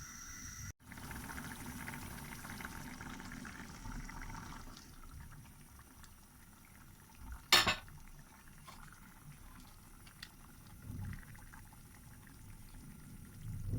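Potato and egg curry simmering in a pot, giving a quiet, steady bubbling hiss throughout, with one brief clank of a utensil partway through and no voices.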